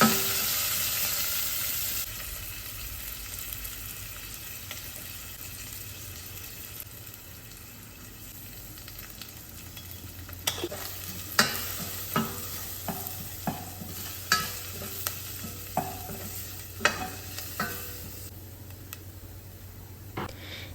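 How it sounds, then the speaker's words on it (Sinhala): Garlic, onions and curry leaves fry in hot oil in a pan, a steady close sizzle broken by a series of sharp scraping strokes as a spoon stirs the mixture, with no talking. "තෙල් රත් වෙනකොට සුදු ලූණු, ලූණු ටිකක්, කරපිංචා දාලා ඒ ටිකක් බැදීගෙන එනකොට මිරිස් කුඩු 3-5 කුඩු, කහ කුඩු ටිකක් දාලා කලවම් කරගන්නවා."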